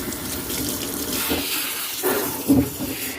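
Tap water runs steadily while a hairy pet gets a bath, a close, continuous rushing flow with a few splashy surges and bumps toward the end.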